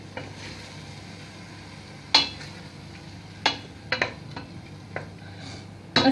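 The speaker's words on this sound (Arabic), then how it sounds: "فوالا نخلي كلشي هكذا يتقلى" Lentils and vegetables frying in oil for tikerbabine, a soft steady sizzle broken by several sharp stirring clinks of a utensil against the pan, close and without talk.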